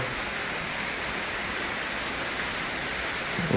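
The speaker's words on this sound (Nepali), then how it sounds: "पानी पनि सिमसिम परिरह हेर गाइस।" Light drizzle falls in the early morning, a soft, even, continuous hiss of rain with no distinct drops or voices standing out.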